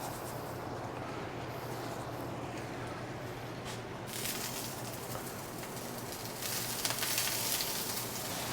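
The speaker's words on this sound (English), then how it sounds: "While that's going, we can sear the halloumi and the broccoli" Halloumi and broccoli searing in oiled pans give a steady close sizzle, with a crackly hiss that swells louder and brighter partway through and again near the end.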